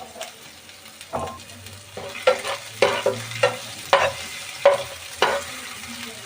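Palva fish curry with ginger, garlic and green chillies sizzles in a pan at home, a soft steady frying hiss punctuated by regular scraping stirs of a spoon, close and moderately quiet.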